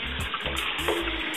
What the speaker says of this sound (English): Wash them a bit. Give them a rinse.